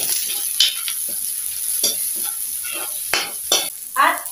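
Chopped onion sizzles in a hot pan for a seafood curry after the garlic, a steady close crackle broken by several louder stirring scrapes, with no talking.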